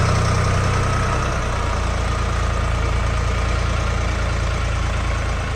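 A JINMA 244 tractor with a cab runs its engine at a steady idle, a loud, continuous low diesel rumble close by with no talk.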